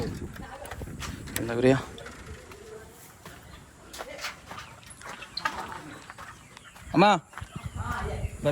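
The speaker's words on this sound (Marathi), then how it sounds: "अरे बापरे भरपूर कोंबड्या आहेत" Country chickens cluck and squawk in scattered bursts around the listener on a poultry farm, with people talking nearby and a loud squawk near the end.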